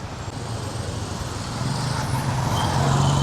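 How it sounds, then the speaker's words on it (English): Kampala road traffic jam: a steady, close rumble of idling and creeping cars, trucks and buses, growing slightly louder over a few seconds, with no talk. "Let's walk by this traffic jam here."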